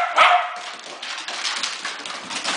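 A dog barks and yips excitedly at the start, then whines and whimpers on and off at close range, with no talking.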